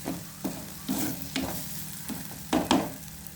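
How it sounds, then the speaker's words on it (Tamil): A spoon stirring a tomato mixture cooking in a pan, with a steady sizzle and repeated scraping strokes, several sharper clacks coming in an uneven rhythm close by. "கொஞ்சம் நேரம் கிளறி விடுவோம்."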